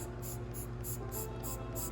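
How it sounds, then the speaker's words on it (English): A spray bottle squirts cleaner onto a rag wrapped around a card while paint protection film is being removed, giving quick, evenly spaced hissing bursts over a steady low hum. "just spray down the rag"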